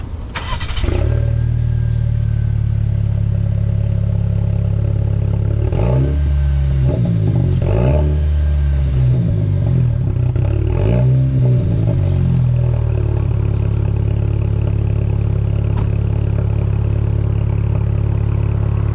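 Engine of a 2023 Jeep Compass with its muffler deleted, starting with a sharp catch, then several loud, deep revs rising and falling before settling into a steady rumbling idle, close up with no talking.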